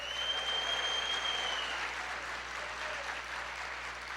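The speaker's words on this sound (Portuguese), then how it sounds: "Pode ser mais alto as suas palmas." A church congregation claps steadily and loudly throughout a sermon service, dense sustained applause with faint voices and a thin whistle-like tone mixed into the crowd noise.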